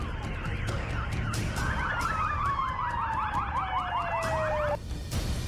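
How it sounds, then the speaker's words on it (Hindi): An air raid siren wails at night in Kyiv, one long tone sweeping in a repeating pattern that carries through steady background noise before cutting off. No voices. "कीव में रात भर खतरे को बताते सायरन गूंजते रहे।"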